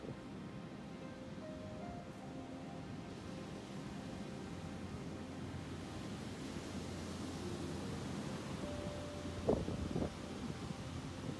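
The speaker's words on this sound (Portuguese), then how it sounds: "quanto mais para cá em Tucuns, mais agitado o mar fica" Rough sea during a storm at Tucuns beach in Búzios, Rio de Janeiro: a steady wash of surf and wind hiss, broad and unbroken, with a brief louder gust or splash near the end.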